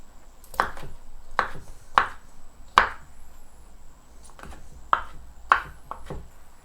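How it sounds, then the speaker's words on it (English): Olives being coarsely chopped with a knife on a cutting board while a vegetarian spaghetti sauce is made: seven sharp, close knocks spaced unevenly over a few seconds, with no talking. "And we just chop it coarsely."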